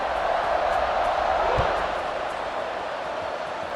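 A stadium crowd roars continuously in the College Football 26 video game, a broad, steady wall of cheering with no single voice standing out.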